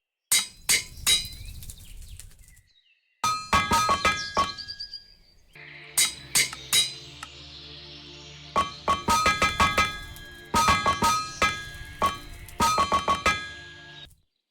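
Bronze ingots being welded on an anvil in the Minecraft modpack TerraFirmaGreg, repeated bright metallic hammer clinks in quick clusters with ringing tones, loud and close, separated by short pauses and game ambience.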